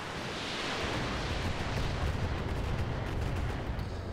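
Missile barrage in the mech combat game Roguetech, a dense roaring rush of launches and blasts that swells and holds steady for several seconds, loud and unbroken, with no voices.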